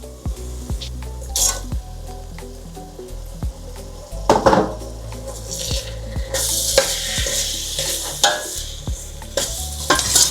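Chopped onions and tomatoes cook in a pan for Porbandar-style pav ragdo, a steady sizzle and frying hiss broken by sharp clinks and scrapes of a spoon stirring against the metal.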